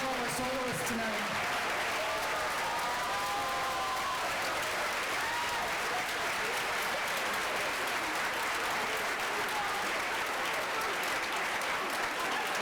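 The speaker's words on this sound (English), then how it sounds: "How about another big round of applause for all our soloists tonight?" Audience at a school fall concert clapping for the soloists, a loud, sustained wash of applause lasting throughout, with brief voices and a few tones near the start.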